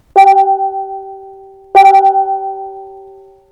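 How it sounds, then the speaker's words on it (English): Two mallet strikes on a bronze Vietnamese bossed gong, each producing a clear metallic ring with a gentle wavering shimmer that sustains and slowly fades. "The bronze Vietnamese gong."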